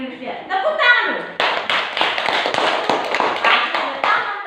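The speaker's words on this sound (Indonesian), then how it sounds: "Tepuk tangan dulu." Children clap their hands together in a Grade 4 classroom, a burst of sharp close claps following a voice, rhythmic and fairly loud with some uneven chatter mixed in.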